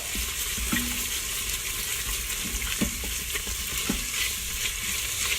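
Ginger garlic paste cooking in a hot pan gives a dense, steady sizzle and hiss with a few soft stirring knocks, close and continuous, no voices.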